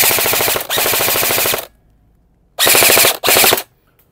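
A G&G FF16 blowback airsoft rifle fires on full auto in bursts: a long rattling stream, a pause, then two shorter bursts, loud and close with no talking.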